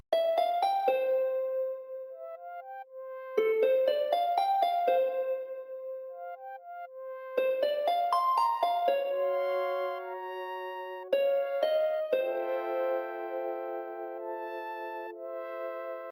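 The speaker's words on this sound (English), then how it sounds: "Next instrument that I used was, it's a pad basically, right? It's called Midnight Dream." A Midnight Dream synth pad carries a second melody in a Nintendo-style beat, bright bell-like tones repeating in four phrases with echoing sustained notes, loud and alone.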